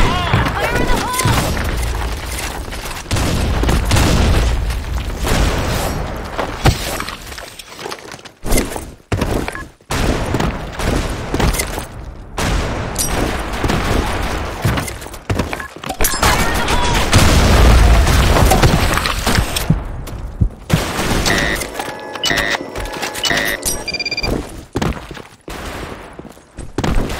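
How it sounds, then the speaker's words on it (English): Booming grenade explosions and bursts of automatic gunfire fill a Blackshot first-person shooter match, loud and dense with irregular gaps, while game voice lines shout over the combat. "Fire in the hole! Grenade!"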